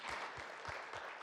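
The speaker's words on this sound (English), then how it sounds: "Yes, round of applause." Audience applause at a public meeting, a steady dense wash of clapping that holds evenly through the whole short stretch, with no voices.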